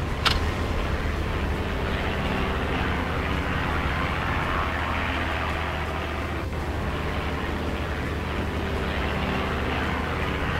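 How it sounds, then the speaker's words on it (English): A scout plane takes off in a video game with a continuous propeller-engine drone that holds fairly steady. A brief click sounds at the start and a faint tick comes partway through, with no voices. "it'll actually give you the view of the plane taking off"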